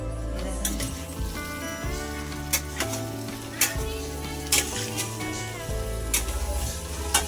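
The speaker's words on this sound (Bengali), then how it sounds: "দেখতে পাচ্ছেন রান্না চলছে এখন" A mixed five-vegetable dish for a festival offering sizzles and fries in a pan, a steady crackling hiss broken by sharp clinks and scrapes of stirring at irregular intervals.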